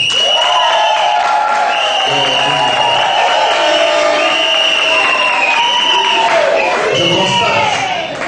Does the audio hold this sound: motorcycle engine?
no